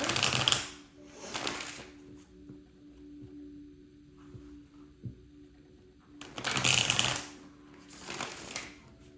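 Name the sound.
shuffling tarot cards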